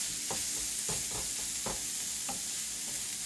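Ingredients stir-fry in a hot pan, a constant sizzle broken by repeated scraping stirs every half second or so, close up with no talking.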